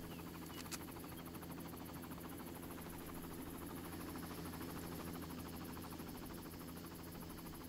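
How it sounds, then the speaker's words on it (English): Helicopter flying nearby in the video game Far Cry, a steady droning rotor buzz with a faint rhythmic chop that holds at an even level throughout, with no speech over it. "Where is the helicopter? I hear it."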